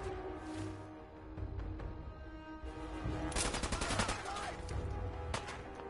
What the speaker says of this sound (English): Oh, Valentine just starts shooting?